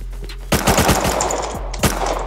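Rapid machine gun fire in the video game Rust, a quick burst of about six close shots followed by a couple of single shots over a steady low background hum.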